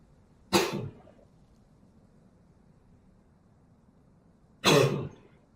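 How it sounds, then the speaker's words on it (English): Two sharp coughs during a Call of Cthulhu tabletop game session, one near the start and one near the end, separated by a few seconds of quiet room tone. "That was a cough."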